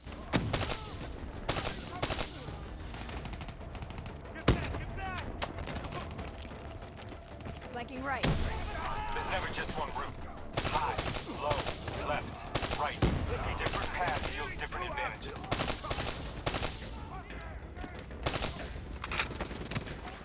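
Rapid gunfire bursts from a weapon in the Call of Duty Black Ops 3 campaign, with repeated automatic volleys and sharp reports among mechanical clicks and game effects, loud and close throughout.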